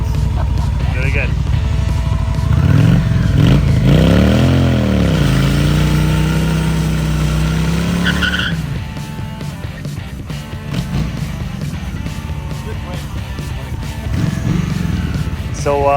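A 2003 Honda Shadow motorcycle, brought back to running after sitting, idles with a steady, close low rumble while people talk over it; the engine noise drops off partway through.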